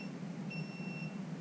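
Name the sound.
thermal camera over-temperature alarm beeping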